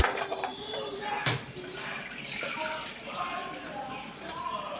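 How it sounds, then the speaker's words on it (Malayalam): Water from boiled food, cooled in ice water, poured off through a strainer, a close gurgling splash and trickle with a couple of sharp knocks, and a person talking briefly over it. "വെള്ളം ഊറ്റിയെടുക്കാം."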